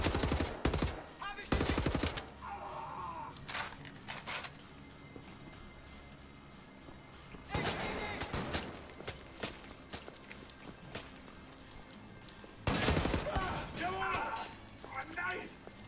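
Bursts of rapid gunfire from the video game Wolfenstein: The New Order come in short, loud volleys separated by quieter game ambience, with a voice talking over the action.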